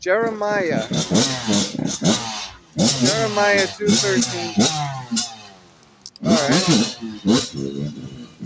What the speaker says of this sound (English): that dirt bike or whatever went by